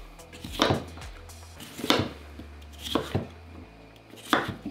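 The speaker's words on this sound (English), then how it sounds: "Chop it up." A knife chops food on a cutting board in a home kitchen: four sharp, separate strikes spaced about a second apart, close and clear, with no talking.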